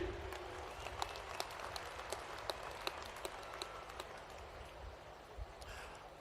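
Congregation at a Catholic gathering for the Archbishop-elect in Namugongo, Uganda, applauding in a sustained, fairly distant wash of clapping with scattered sharper claps throughout.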